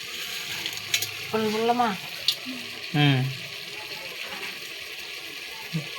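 Chicken pieces sautéing in a pan for a home-style chicken fry, with a steady sizzle and scraping stirs, while a voice speaks briefly over the cooking.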